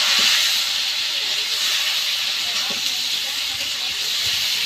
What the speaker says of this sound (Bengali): এখন এই কাঁচা মরিচগুলো আমি দিয়ে দিচ্ছি